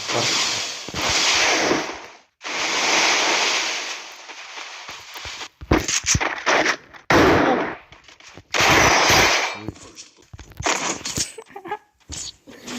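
Gunfire in the mobile shooter Free Fire comes in loud, sharp bursts and single cracks separated by short silences, with rapid volleys toward the end and no talking.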